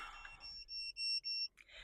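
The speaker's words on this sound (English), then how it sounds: "My car likes to beep at me when it's been idling for 20 minutes" A car's idle warning chime after twenty minutes of idling: a few steady electronic beeps, two long tones followed by a short one, fairly faint and alone after a brief voice at the start.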